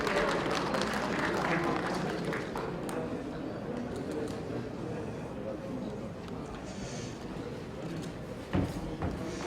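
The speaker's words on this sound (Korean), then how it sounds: "모두 박수로 환영해 주십시오" Crowd applause welcomes a pastor at a Korean Protestant church council's general assembly. Steady, dense clapping fills the room with voices mixed in, then fades slightly near the end.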